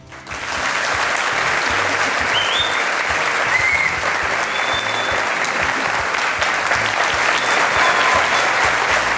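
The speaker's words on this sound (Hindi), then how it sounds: "और ये तालियों का सिलसिला बजते रहना चाहिए।" Studio audience applause on an Indian television courtroom-style interview show, a loud, dense, sustained burst of clapping that swells in within the first second and holds steady throughout.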